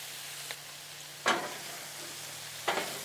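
Broccoli and onion with soy sauce sizzle on a Blackstone griddle, a low steady fry broken by three bursts of sharper hissing as the food is stirred or turned, close and moderately loud.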